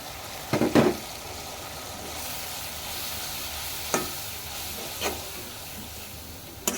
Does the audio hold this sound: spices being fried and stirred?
yes